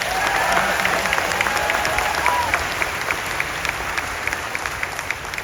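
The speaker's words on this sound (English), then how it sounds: "give them that round of applause" A crowd at a Disney Hollywood Studios 35th anniversary ceremony applauds the park's cast members, a broad wash of clapping that swells early, then thins into scattered individual claps over a faint hum.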